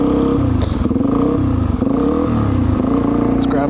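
Motorcycle engine idling and clunking into gear on a snowy trail outing, a steady loud rumble close by with a brief mechanical clatter and a slight rise as the bike pulls forward.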